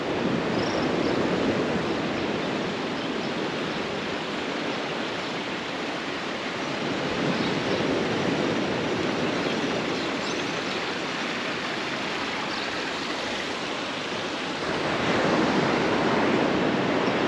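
Gentle sea waves wash onto the shore at Canto do Poá beach, a continuous broad rushing surf with a soft swell near the end, mixed with some wind noise and no voices.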